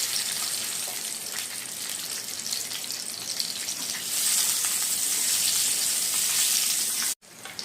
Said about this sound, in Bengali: সেই ডিম 2টা ভেজে নিব।